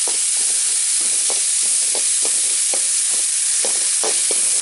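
Tomatoes drop into a hot frying pan for a snail curry, raising a loud, steady sizzle with soft spoon-stirring knocks and scrapes spaced through it.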